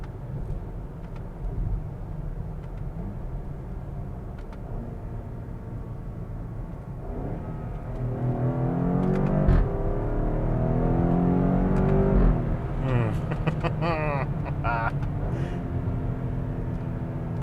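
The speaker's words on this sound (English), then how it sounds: "Listen to these upshift burbles." A 2016 BMW X5M drones along steadily, then its engine rises in pitch through hard acceleration with exhaust burbles popping on each upshift, loud and near inside the cabin.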